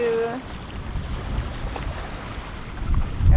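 Wind buffets the microphone in a low, steady rumble at sea, with faint distant water and a brief whistle at the start.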